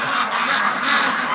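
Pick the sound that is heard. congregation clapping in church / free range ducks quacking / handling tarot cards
free range ducks quacking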